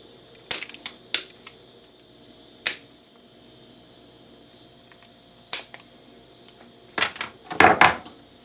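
Sharp metallic clicks and taps from center punching hole marks on a bumper plate, scattered single strikes with pauses, then a tighter cluster of rattling hits near the end, close and fairly loud with no speech.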